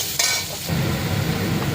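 Spices with salt and turmeric powder fry in a pan and get stirred, a dense close sizzle with a brief scraping stir near the start, then steady frying.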